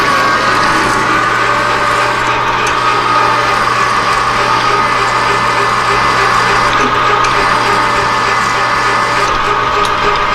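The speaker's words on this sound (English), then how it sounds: "We're going to go in about 3/4 of an inch here with drill." A half-inch drill bores into metal on a shop machine at about 320, a loud, continuous grinding whir held steady at close range throughout.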